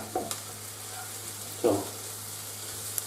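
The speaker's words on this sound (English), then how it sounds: "we're going to add the tikka masala paste and then and the peppers, and we're going to cook it again for a few more minutes" Peppers and tikka masala paste sizzle softly in a pan for chicken tikka masala, with a few clattering stirs and a brief spoken word over the steady hiss.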